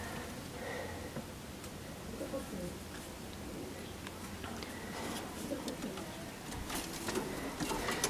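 Pigeons in a loft coo softly and intermittently over a constant hiss of background noise.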